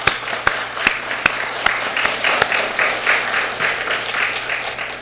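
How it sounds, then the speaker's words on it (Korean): A church congregation applauds steadily for several seconds during a Sunday service, with loud, sharp claps standing out near the start above a dense wash of hand-clapping. "우리 감사의 박수를"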